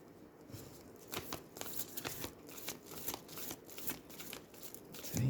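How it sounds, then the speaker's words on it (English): Gilded oracle cards of the Wild Kuan Yin Oracle Velvet Goddess Edition being shuffled by hand, a steady run of soft papery riffles and slides, close and fairly quiet with no voices. "these are shuffling fine"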